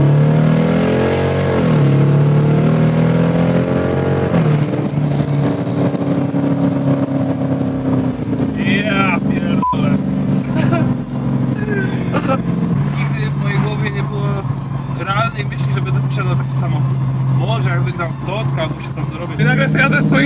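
A Dodge Challenger with a V8 engine rumbles loudly and steadily from inside the car as it is driven, with a rev near the start. Someone talks over the engine throughout.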